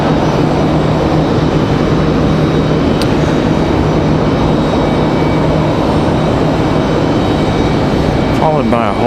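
A Delta Airbus A321 airliner at Raleigh-Durham International Airport gives a loud, steady broadband roar that holds without break, with a brief tonal engine whine rising near the end.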